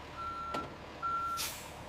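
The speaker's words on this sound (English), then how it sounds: "temperature-controlled trucks arrive from the breeder farms" A temperature-controlled truck at a hatchery receiving bay gives two steady reversing beeps over a low idling engine, with short hissing bursts of air brakes, fairly faint and alone.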